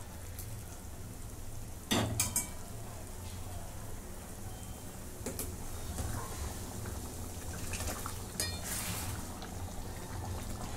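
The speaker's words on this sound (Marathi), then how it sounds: "आता इथे मी गरम पाणी करून घेतलंय, ते ओतून घेते." Hot water pours in a steady hissing rush that sizzles as it hits a hot pan of chicken, with a sharp clatter near the start.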